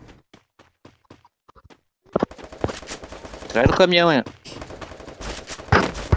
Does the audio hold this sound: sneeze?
no